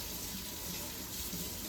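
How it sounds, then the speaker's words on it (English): Hands being washed under a running kitchen tap at the sink, a steady, close rush of water with no break across the short stretch. "Hold on, I'm gonna wash my hands."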